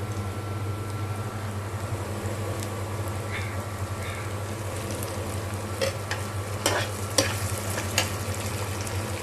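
Cumin, ginger and garlic paste fry in oil for a beef curry, giving a steady low sizzle with a few brief clinks and stirring scrapes near the end, and no talking.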